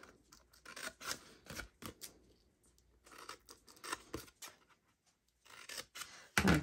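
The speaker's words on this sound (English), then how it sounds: "now snip those lines." Scissors snipping along lines in paper for a Halloween treat box craft, a series of close, crisp cuts in uneven bursts with short pauses between, no talking.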